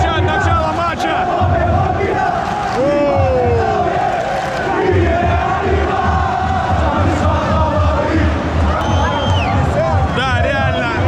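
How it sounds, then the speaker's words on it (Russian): Beitar football fans roar and chant at the start of a match, a dense, loud stadium crowd sustained throughout with rising bellows and cheers. "Вот так болельщики Бейтара встречают начало матча"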